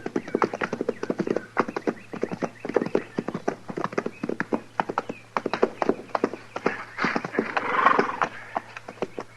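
Horse hoofbeats made as a radio drama sound effect for a Western, a steady close clip-clop rhythm of several hooves with a brief whinny-like sound near the end.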